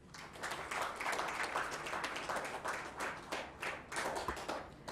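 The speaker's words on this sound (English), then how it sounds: "Let's welcome Paresh with a round of applause." Audience applause at a conference as a speaker is welcomed, steady dense clapping from a room full of people throughout, moderately loud with no talk over it.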